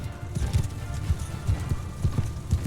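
Horse hooves clip-clop in Mount & Blade II Bannerlord, a steady rhythmic trot of soft, low thuds close by over constant background rumble, with no speech.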